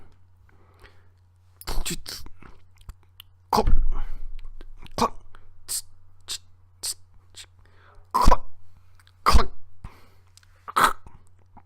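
A voice mimics furniture assembly with a run of sharp mouth clicks, taps and scraping bursts, spaced irregularly and close up.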